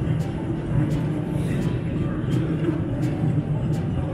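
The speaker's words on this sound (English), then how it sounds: "train" A passing train gives a continuous low rumble with faint, regularly spaced clicks over steady mechanical noise, heard close and fairly loud.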